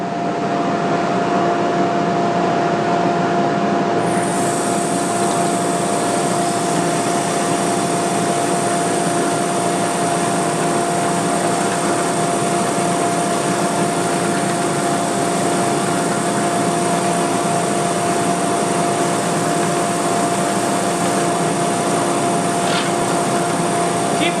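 A power sander working red oak and ipe wood hums loudly and steadily throughout, a constant close motor whine with a continuous abrasive hiss.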